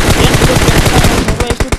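Rapid automatic gunfire in a battle royale video game scrim, loud bursts of close shots rattling continuously, then a few separate spaced shots at the end.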